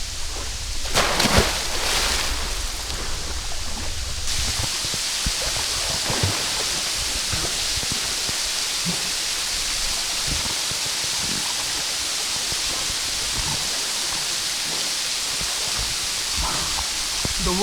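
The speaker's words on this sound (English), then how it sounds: "So I'm just going to go inside the water here in the Pungshwa Falls" Waterfall at Pungshwa Falls: a constant broad rushing roar of falling water, with brief louder splashing and handling bursts near the start.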